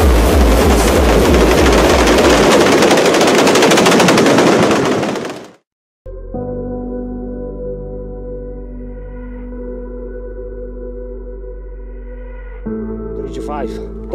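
Dutch New Year 2019/2020 fireworks: a dense, loud barrage of rapid crackling bursts for several seconds, cut off abruptly, then a steady droning hum with a sharp whistle near the end.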